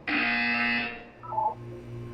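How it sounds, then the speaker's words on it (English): A loud, harsh electronic buzzer from the Aperture Science wellness exercise in a video game sounds for about a second, then drops to a brief two-note chime, with no talk around it. "You will hear a buzzer."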